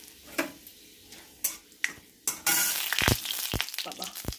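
Panch phoron, dried chilli and bay leaf tossed into hot oil: several sharp pan clinks, then a sudden bright sizzle that swells and crackles with spatula knocks, close and loud.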